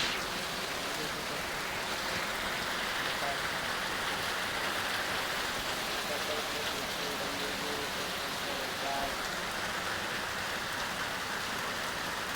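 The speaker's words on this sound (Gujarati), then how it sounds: "વરસાદ પડી રહ્યો છે, તમે જોઈ શકો છો" Heavy rain falling outdoors, a dense, steady hiss of drops on surfaces that stays constant throughout, moderately quiet and without breaks.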